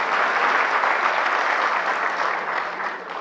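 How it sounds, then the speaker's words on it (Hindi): An audience at a training session breaks into steady applause, a dense and even patter of many hands close by that tapers slightly at the end. "तो ये तालियां जो हैं, ये जो स्माइल है सभी लोगों के चेहरे पर सर"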